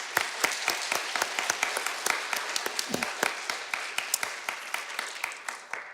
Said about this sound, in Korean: 우리 감사와 격려의 박수 한번 드리겠습니다